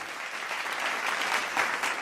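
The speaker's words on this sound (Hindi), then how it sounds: "जोरदार तालियों से स्वागत करिए" A studio audience greets actress Yami Gautam with steady, dense applause, loud and close, swelling slightly toward the end of the burst.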